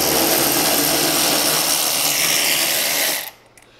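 DeWalt cordless impact gun driving fasteners while a zero-turn mower seat is fitted: a loud, dense buzzing hammer-whir that runs steadily for about three seconds, then stops abruptly, leaving faint clicks.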